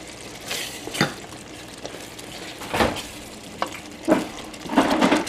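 Beef vindaloo being stirred in a pot, irregular scraping and shuffling strokes of a spoon over a low sizzle, several louder bursts of stirring close by.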